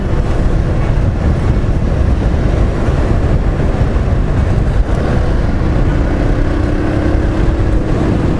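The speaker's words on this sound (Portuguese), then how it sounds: "esperar um minutinho para o motor voltar à temperatura de trabalho dele" A sport motorcycle engine idles steadily while warming up to working temperature, a continuous low rumble with wind noise over the microphone, loud and close, no talking.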